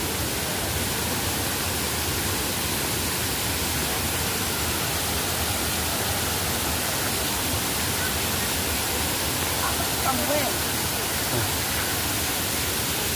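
Piduan Falls pours in a steady, dense roar of falling water, loud and unbroken from start to finish, with no voices standing out above it.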